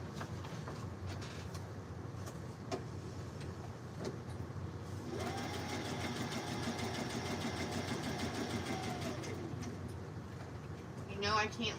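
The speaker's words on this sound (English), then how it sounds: "let me stitch this real quick. My sewing machine is right behind me." A sewing machine stitching fabric during a live craft session, a steady mechanical whirring run in the middle of the stretch, with speech and handling noises around it.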